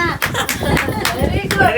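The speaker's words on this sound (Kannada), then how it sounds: "ಚಪ್ಪಾಳೆ." A short burst of hand clapping from a small group at a bride-to-be celebration, with voices in the background.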